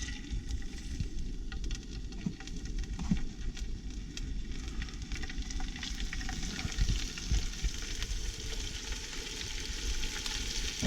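Trout skin crisping in a hot pan, a steady close crackle and spatter of frying oil with small pops throughout, no voices.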